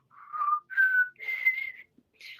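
A person whistles a short series of clear, tonal notes imitating two bird calls, several sustained rising and steady pitches with brief gaps, close and alone without talk.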